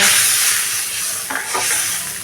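Close stirring and sizzling of a simmering mustard, poppy seed and green chilli fish curry with Koi Khoira fish in a pan, a steady hiss with a few scraping swirls of the spoon, no talk.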